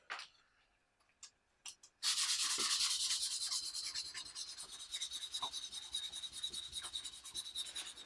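Sandpaper rubbing over a handmade plum wood butter knife, a steady close scratchy hiss in quick back-and-forth strokes that runs continuously after a few faint taps.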